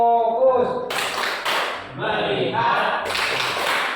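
A group performs the 'tepuk fokus' clap pattern, with bursts of clapping breaking in among chanting voices that talk over the claps.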